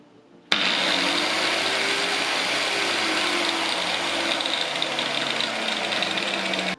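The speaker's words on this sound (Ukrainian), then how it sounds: "Навантаженням буде кутошліфувальна машина." An angle grinder starts abruptly without a soft starter, jumping straight from near silence to a loud, steady whining motor that holds at full speed with a slight wavering pitch.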